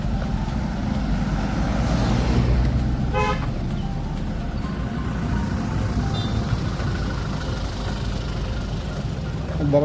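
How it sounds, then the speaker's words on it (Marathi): Car horns honk over a steady rumble of engines in a traffic jam on the road to a temple fair in Malvan. The horn blasts are short and sit above a constant low drone of idling vehicles. "खूप ट्रॅफिक जाम आहे."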